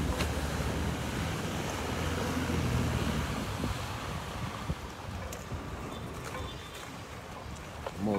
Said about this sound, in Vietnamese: Này cano 5m4 nha.